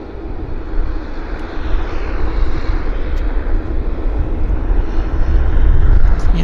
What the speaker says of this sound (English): Bit of a long taxi for the JAL today.